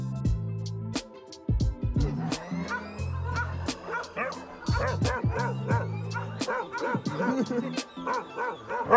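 Dog barking and yipping in a home setting in Mexico, repeated sharp barks in uneven bursts, loud and close, with some whimpers between them.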